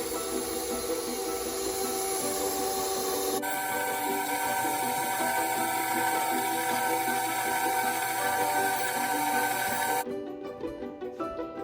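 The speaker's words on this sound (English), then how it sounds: "now we're gonna mix her up one more time" Electric mixer beating pumpkin cookie batter, a steady loud whir running nearly the whole time with a shift in pitch partway through, then stopping near the end.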